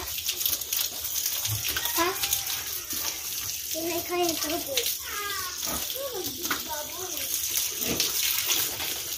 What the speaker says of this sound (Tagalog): mahina yung tubig natin today